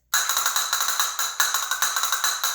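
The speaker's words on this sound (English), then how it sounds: "now we're going to add the cadence of the castanets" Rapid castanet clicks in a steady repeating triplet sevillanas pattern, crisp and bright, played alone at close range.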